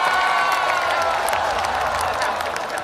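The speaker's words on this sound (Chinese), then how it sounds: "好， 掌声！" Studio audience applauding at a Chinese talk-show taping: a full, loud burst of many hands clapping with some crowd cheering mixed in, sustained across the whole stretch and easing slightly toward the end.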